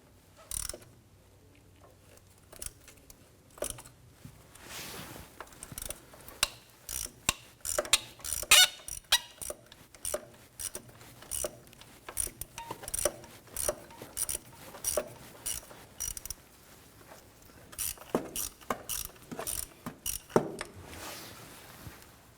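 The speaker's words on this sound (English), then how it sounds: "Use our 12mm socket and ratchet. I'm going to go ahead and loosen and remove the bolt here." A ratchet on a 12mm socket clicks in short bursts while loosening and removing a bolt on a 1993-1997 Ford Ranger during speed sensor replacement, close up with quiet pauses between strokes.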